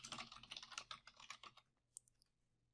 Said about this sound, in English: Excuse the loud typing.